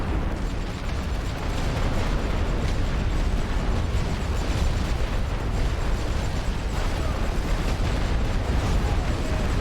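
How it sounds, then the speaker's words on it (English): A heavy artillery barrage in The Great War: Western Front video game, a continuous, loud rumble of overlapping explosions and booms, dense and steady throughout with no clear gaps. "we're hitting some of these positions with heavy artillery as well, trying to bust them up"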